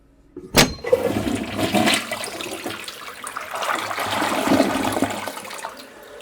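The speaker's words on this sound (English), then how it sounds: "We flushed Lou." A toilet flushes close by with a sharp onset, then a loud rushing swirl of water that drains steadily over several seconds, with no voices.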